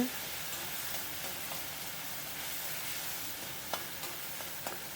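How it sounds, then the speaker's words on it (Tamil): Ingredients for a fish curry sautéing in a pan over a low flame make an even, continuous sizzle, with a few soft stirring scrapes near the end and no talking. "அடுப்பை சிம்மில் வச்சுக்கலாம் இதை நல்லா வதக்கிடணும்"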